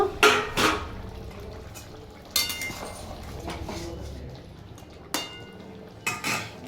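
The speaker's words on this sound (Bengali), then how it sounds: "এবার আমরা ঢাকনাটাকে খুলে নেব" A metal lid lifted off a cooking pot of giant taro and shrimp, sharp clanks and clinks of metal against metal in a few bursts, with quieter rattling between them and no speech.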